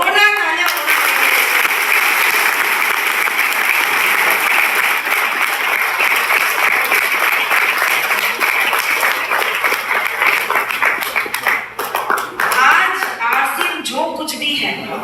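Sustained clapping from a large audience fills a meeting hall, dense and steady for most of the stretch before thinning toward the end, with a few voices mixed in.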